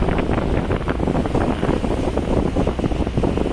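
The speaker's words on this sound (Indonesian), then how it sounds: "Angin masih cenderung kencang ya." Strong wind buffets the microphone on the deck of the KMP Batu Mandi ferry crossing from Merak to Bakauheni at dawn, a steady loud roar with gusty rumble and faint sea wash beneath, no talking.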